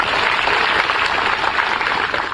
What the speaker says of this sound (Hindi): एक बार अपने लिए जोरदार ताली बजाएंगे।